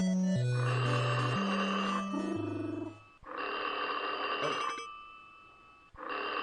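A telephone rings in a creepy horror video game, repeated electronic ring bursts separated by short pauses over stepped low tones, with one brief spoken exclamation.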